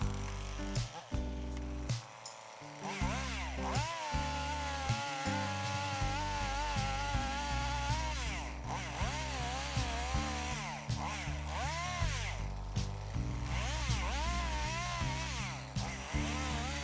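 A chainsaw cutting up a rotting cedar tree: loud continuous two-stroke engine whine that revs up and down repeatedly, idling briefly between cuts, with no talking.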